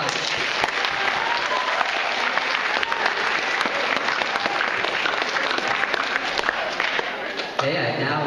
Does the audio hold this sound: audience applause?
yes